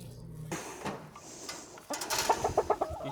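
Chickens cluck in a pen, with a short burst of rhythmic, close clucks near the end following some quieter rustling and scattered calls.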